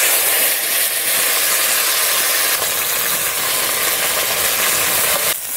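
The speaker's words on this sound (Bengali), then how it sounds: "আমি ফুলকপিটা ভালো করে কষিয়ে নেব মশলা দিয়ে" Cauliflower pieces frying in hot oil with whole cumin seeds for pakora, a steady close sizzle and hiss running unbroken throughout with no talk.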